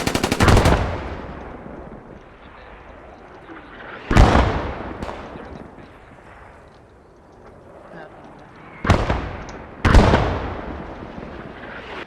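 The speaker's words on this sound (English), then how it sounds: "Someone's got a hand mortar going." Hand mortar firing in the WWII game Post Scriptum: sharp, loud blasts ring out one at a time with long decaying echoes between them, several spaced seconds apart, with a voice speaking over the battle.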